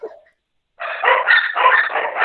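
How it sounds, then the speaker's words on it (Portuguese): A dog barks loudly and close in a continuous run of barks lasting over a second, after a brief faint yelp and a short silence. "Pode ter um cachorro latindo aí."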